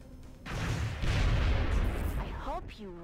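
A heavy gunshot booms in the XCOM Enemy Within video game, followed by a sustained loud rumbling blast and then short electronic chirping tones.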